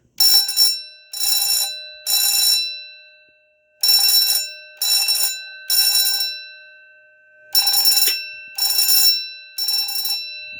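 A vintage Stromberg 6-inch electric alarm bell rings loudly in three groups of three short bursts, each ring a harsh metallic clatter separated by silence.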